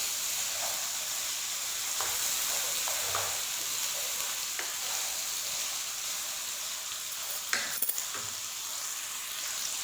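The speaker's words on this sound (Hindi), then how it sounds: "अच्छे से आप लोगों ने इसको फ्राई करना है ताकि सारे मसाले इसमें अच्छे से मिक्स हो जाएं।" White beef karahi sizzles steadily in a pan as it fries with spices, a continuous hiss with a few faint clinks of stirring and no talking.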